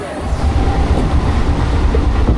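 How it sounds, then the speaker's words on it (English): Silver River Flumes log flume ride at PortAventura World climbing its lift hill, a steady loud mechanical rumble and rattling clatter running throughout without pause. "Here we go, climbing up on the Silver River Flumes."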